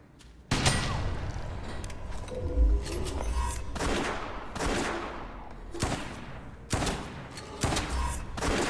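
Shotgun blasts in the video game West of Dead ring out as sharp, loud, separate shots at an irregular pace, each followed by a decaying rumble.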